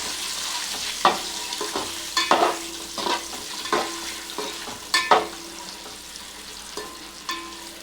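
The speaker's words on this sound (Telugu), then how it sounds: "కొంచెము కారము ఫస్ట్ వేసుకొని ఇది ఇట్లా ఫ్రై చేసుకోవాలి" Eggs fry with chili powder in a pan for egg biryani: a low continuous sizzle punctuated by about a dozen sharp spatula knocks and scrapes at an irregular pace, close by and with no talking.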